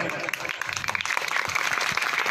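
Audience clapping at a public speech, a dense patter of hand claps with a lone voice breaking through underneath.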